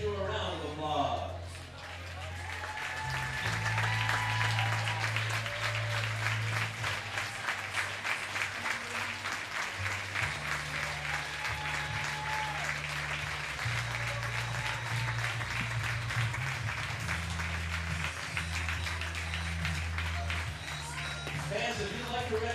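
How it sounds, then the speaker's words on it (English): Crowd at a Batavia Muckdogs versus Elmira Pioneers summer collegiate baseball game applauding veterans, a sustained, moderately loud wash of clapping at the ballpark with organ-like music playing underneath throughout. "may I ask that you please stand up as the crowd gives you a round of applause."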